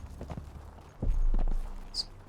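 A horse's hooves clip-clop at a walking pace in the video game Conan Exiles, a steady run of muffled thuds with a brief high chime partway through.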